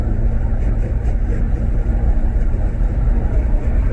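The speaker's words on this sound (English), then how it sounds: "You might not be able to hear me with this wind." Steady, loud wind roar fills the cabin of a VW GTI MkV driving with its windows open in fourth to fifth gear, a dense continuous rush with low road rumble beneath and no break.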